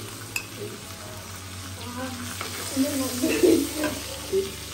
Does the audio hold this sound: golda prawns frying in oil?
yes